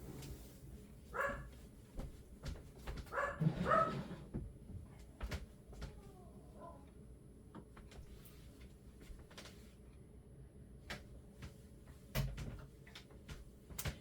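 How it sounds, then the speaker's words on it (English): Dogs bark in a few faint, distant bursts inside a quiet home, with scattered clunks and knocks between them. "who knows what the boys are barking at"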